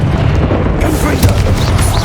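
Confringo blasting spell detonating in Hogwarts Legacy, a loud deep boom with rumbling burst over sustained low roar amid busy combat noise.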